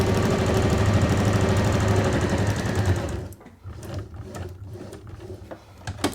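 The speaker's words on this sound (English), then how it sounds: "Sew down this edge." A sewing machine runs steadily, stitching down the edge of a zipped make-up bag, then stops after about three seconds, leaving quieter handling and small clicks.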